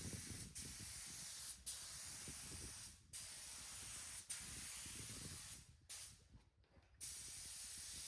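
A spray gun applies 2-pack lacquer onto a pippy oak kitchen table with a resin river, producing a loud, steady hiss in long bursts broken by short gaps.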